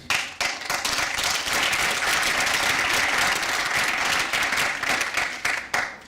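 A crowd applauds at the final presentations and awards of a hackathon, with clapping rising quickly and holding steady and full for several seconds before tapering off unevenly at the end.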